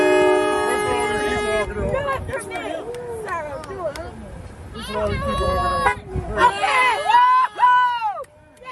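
Car horns toot repeatedly in short bursts and longer blasts, sounding amid crowd babble and people talking nearby, with honks clustered toward the end.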